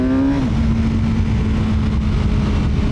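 BMW S 1000 R super naked motorcycle being ridden on an open road, a loud steady engine note that dips briefly at the start and then holds at an even pitch, close and continuous with no talking.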